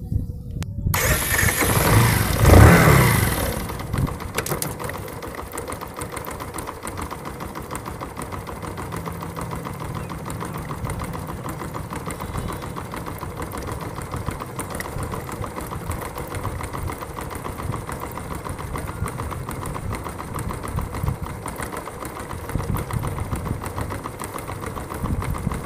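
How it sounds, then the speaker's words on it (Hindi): A motorcycle engine cranks and catches with a loud burst, then settles into a steady, even idle for a long stretch while the bike's chain is being lubricated. "तो मैं बाइक को स्टार्ट कर लेता हूँ।"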